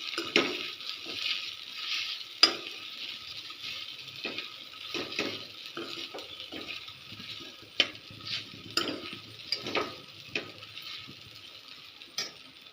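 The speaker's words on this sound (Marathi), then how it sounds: "बघा मी आता मिक्स करून घेत आहे पूर्णपणे असं मिक्स करून घ्यायचं आहे आपल्याला" A spoon scrapes and stirs sabudana khichdi around a hot pan over a low, steady sizzle, with irregular metallic clinks against the pan's sides and bottom continuing throughout at close range.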